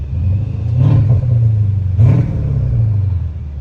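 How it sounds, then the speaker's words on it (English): Revving in sport mode, a lowered Mercedes S-Class on straight pipes gives two quick blips over its deep, loud idle, with turbo whoosh and whine rising alongside each rev, nearby and without speech. "You hear that turbo spooling?"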